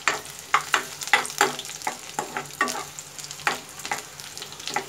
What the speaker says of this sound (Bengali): পেঁয়াজগুলো হালকা ভেজে নিচ্ছি।